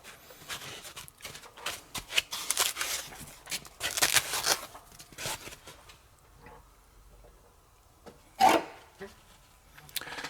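A wire saws through landscaping material in short rasping strokes, close and rough, fading into near silence before one last sharp scrape.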